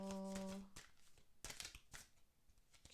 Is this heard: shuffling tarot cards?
yes